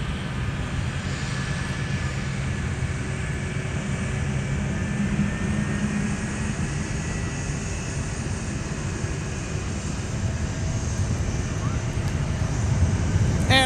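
A Boeing 757-200 jet departing Minneapolis–Saint Paul airport with the Minnesota Twins on board: a steady, moderately loud distant engine rumble and whine holds throughout, with faint talk mixed in.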